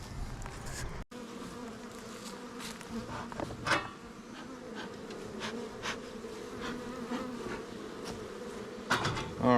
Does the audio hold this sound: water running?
no